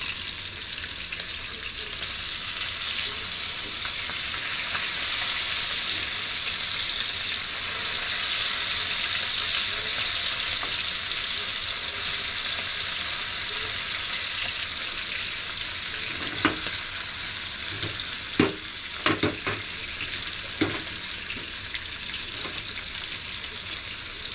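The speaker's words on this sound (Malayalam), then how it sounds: "ഒരു സൈഡ് മൊരിയുന്ന വരെ നമുക്ക് ഫ്രൈ ചെയ്യാം." Sardines fry in a pan for a Kerala-style mathi fry, giving a dense, steady sizzle that continues without pause, with a few sharp clinks and taps near the end.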